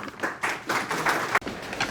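An audience at a literary book event claps to welcome a speaker to the stage, a steady rolling applause of many hands with a short break, moderately loud.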